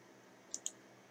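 Two quick computer mouse clicks in close succession, crisp and near, over a faint quiet background hiss.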